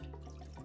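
Water from a one-cup measure pouring into a saucepan holding half a stick of butter for churro dough, a steady close splashing trickle with no one talking.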